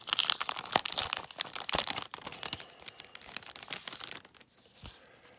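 A plastic slip case is pulled off a Beatles CD, with dense crinkling and crackling of plastic that is loud and busy at first, then thins out into a few scattered rustles near the end.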